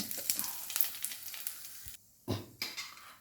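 Mustard seeds and chillies sizzle and crackle in hot oil for a beetroot dish, a faint, close frying hiss with a short pause and a couple of sharp bursts near the end.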